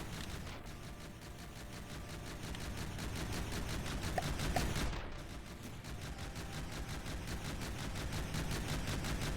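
New turret weapons test-fire in the naval and vehicle building game From the Depths, a fast, steady stream of rapid shots rattling on without a break over a low rumble, moderately distant and even.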